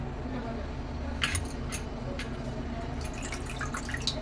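Water drips and trickles as washed chhana (cottage cheese) for rasmalai is squeezed by hand, scattered light patters over a low background hum, with a voice faintly present.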